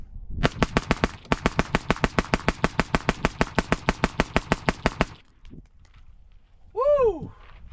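A full magazine of rapid rifle fire through a Huxwrx Flow 556k suppressor, using Sico Velos LBP 55-grain ammunition: about thirty sharp, evenly spaced shots in a fast continuous string, a brief pause in the middle, then silence and a short whoop afterward.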